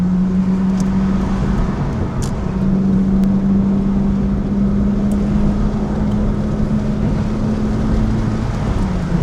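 A motorbike rides through Osaka streets at night, its engine a loud, steady close-up drone with a constant low hum and only a slight rise in pitch over about nine seconds.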